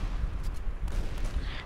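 Gunfire in the online shooter CrossFire comes as rapid, dense bursts of shots over a heavy low rumble, loud and continuous throughout.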